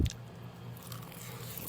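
Soft, close chewing of food wrapped in nori seaweed, an ASMR-style bite at the start followed by quiet, moist mastication, faint and without talk.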